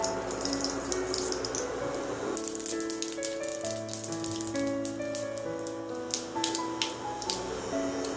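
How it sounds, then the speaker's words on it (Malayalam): Mustard seeds hit hot coconut oil in a pan for a keto upma, setting off a busy rattling crackle that picks up sharply partway through, with scattered bright pops over a steady sizzle. "ഞാൻ വെളിച്ചെണ്ണ ഒഴിച്ചു കൊടുക്കുകയാണ്. എണ്ണ ചൂടായി വന്നാൽ കടുക് ചേർക്കാം."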